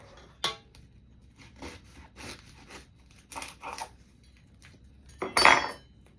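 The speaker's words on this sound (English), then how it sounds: "I'm gonna cut it off and put it in here in my pot" Knife work on a small onion, with clinks of a utensil against a pot as the pieces go in: a few sharp separate knocks and a louder scraping clatter near the end, with no talking.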